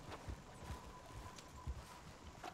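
Horse hooves clip-clopping at a steady walking rhythm in Red Dead Redemption 2, a moderate series of hoof falls over ambient game background with no talk.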